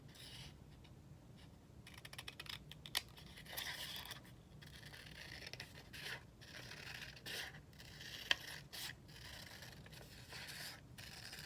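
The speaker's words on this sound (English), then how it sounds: "You take your scissors." Quiet, close snipping and scraping of scissors cutting through paper, in irregular bursts with short pauses, and no voices.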